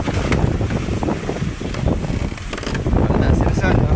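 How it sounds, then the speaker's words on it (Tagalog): Big sea waves churning around a boat at sea in stormy weather, a loud rushing surge heavy with wind buffeting the microphone and a constant low roar. "Ang laki ng alon dito."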